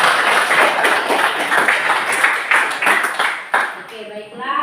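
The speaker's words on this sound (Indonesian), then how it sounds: "beri aplaus untuk kedua teman" Classroom applause for two students, a burst of scattered hand clapping from a group that thins out toward the end, close and fairly loud.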